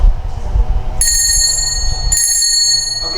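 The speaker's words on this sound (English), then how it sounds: "The bell will rung by the timekeeper once if the POI time is started, like this." A single ring of a debate timekeeper's bell at a school English debate exhibition, a bright metallic tone with a sharp onset that rings out and decays, then sounds briefly again, loud and close over a quiet room.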